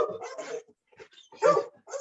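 A dog whimpers and gives short yips and barks indoors, several close bursts separated by brief pauses, with no talk over them.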